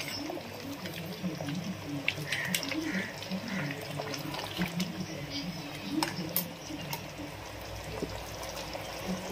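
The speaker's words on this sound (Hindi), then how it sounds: "जो हम लोग यहाँ पे इसमें पानी डालेंगे" Water is poured into a pot of mutton white pulao, making a continuous close splashing and gurgling stream at moderate loudness.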